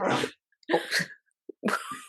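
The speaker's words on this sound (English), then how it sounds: "That was my dog. She sneezed." Three short, sharp bursts of breathy noise in quick succession, a dog sneezing close by, separated by brief silences.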